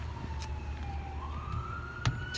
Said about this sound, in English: This is the second police car that's gone by.